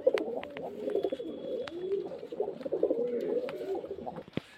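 Pigeons kept for sale at a home loft give a standing call, a near, continuous run of low throaty coos that rise and fall in overlapping phrases, with a few faint clicks and no talk.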